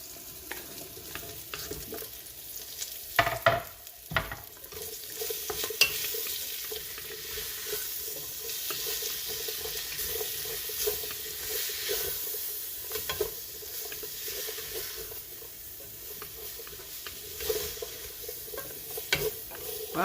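Onion, bacon and celery fry in a pan and are stirred repeatedly, giving a continuous sizzle broken by scraping and clattering strokes that grow busier and louder at moments over a long stretch.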